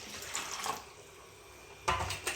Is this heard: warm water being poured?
yes